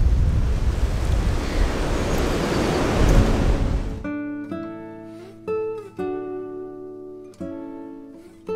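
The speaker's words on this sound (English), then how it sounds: "Bleeding windy though." Strong gusty wind buffets the microphone for about four seconds at a New Forest campsite, then cuts out abruptly to quiet tonal music with distinct note attacks.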